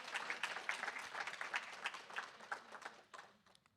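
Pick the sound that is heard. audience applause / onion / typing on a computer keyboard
audience applause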